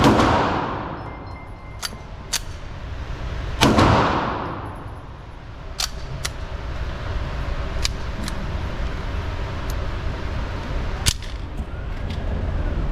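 Pistol shots from a Staccato P fired at a range, several sharp cracks spread across the stretch with one heavy report near the start, loud and close against a noisy outdoor background.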